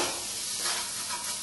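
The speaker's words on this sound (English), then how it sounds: "we will be adding the chopped tomatoes and saute them again" Onions and chopped tomatoes sauté in a pan with a continuous soft sizzle and hiss that stays even and close throughout.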